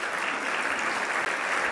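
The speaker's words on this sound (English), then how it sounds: "Let's give them a well-deserved round of applause." Steady, dense applause from a seated audience at an opening plenary luncheon, loud and continuous throughout the short stretch with no voices standing out.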